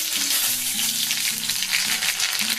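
Shahi jeera, bay leaves and dry red chilli sizzle in hot oil with a steady, bright crackling hiss that continues throughout, while a soft low tonal hum runs underneath.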